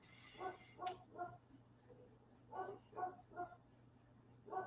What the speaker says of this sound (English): my dogs are barking today